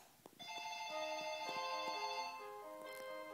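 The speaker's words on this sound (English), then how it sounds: "Uh-oh, the phone's ringing." An electronic phone ringtone plays inside a children's iPad game as a steady melodic tone pattern, fairly quiet and continuous with no talking over it.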